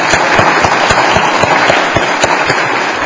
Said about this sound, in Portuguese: eu queria que vocês dessem lá uma salva de palmas para o homem nesse trabalho